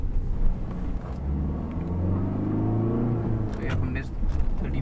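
A 2021 Tata Harrier XT+ facelift SUV pulls hard in first gear, its engine droning and rising in pitch under a steady rumble, with a person talking over it and brief clatters near the end.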